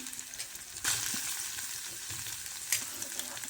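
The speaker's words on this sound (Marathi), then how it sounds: "कांदा आणि मसाला आपलं भाजून निघणार चांगला तेलामध्ये." Onion and masala fry in hot oil with a soft, continuous sizzle, punctuated by a couple of louder bursts as the pan is stirred.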